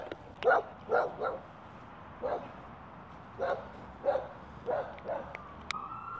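A large Tibetan Mastiff barks in a public place, about nine deep separate barks spread unevenly across the stretch, moderately near, with quiet background between them.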